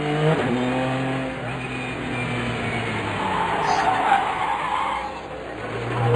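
The Extreme Speed Motorsports HPD P2 prototype race car spins out at Sebring's 12-hour race, its engine note dropping amid a sustained tire skid, then revving again as it recovers, heard clearly without talk.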